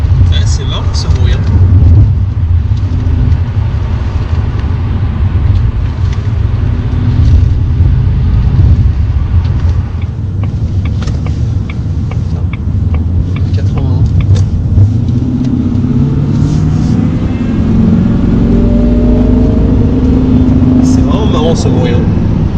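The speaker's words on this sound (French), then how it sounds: "Et le compresseur de la Jag, ça siffle." Supercharger whine from a 2004 Jaguar XKR X100 on the move, a steady engine and road rumble with a thin high whistle running throughout, while people talk over it.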